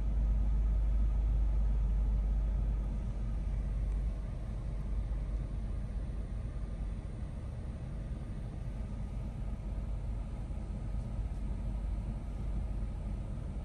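A Jeep JK engine idling after starting, a steady low rumbling hum that stays even and unbroken, heard from inside the vehicle with no other sounds.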